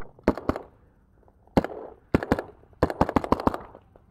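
Paintball markers fire during a mag-fed game, including a SAR12C bolt-action and semi-auto sniper marker: sharp, close pops come in scattered single shots and quick clusters.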